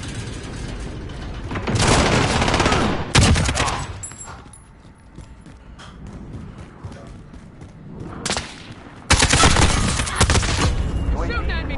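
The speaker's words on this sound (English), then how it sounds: "Shooting at me." Gunfire in Call of Duty Modern Warfare comes in heavy automatic bursts with booming impacts, loud and close, separated by quieter stretches with a voice talking.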